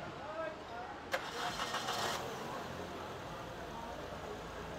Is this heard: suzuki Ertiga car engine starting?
yes